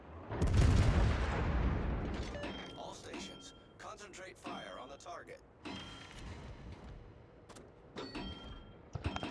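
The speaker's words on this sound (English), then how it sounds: "All stations, concentrate fire on the target." Saint Louis cruiser guns fire in World of Warships, opening with a loud booming volley that rolls off, then scattered sharper reports and mechanical clicks, with talk heard in the background.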